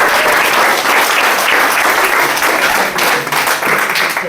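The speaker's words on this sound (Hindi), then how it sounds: "जोरदार ताली आप लोगों के लिए" An audience at a direct selling seminar bursts into loud, sustained applause, dense clapping from many hands filling the room continuously with slight dips near the end.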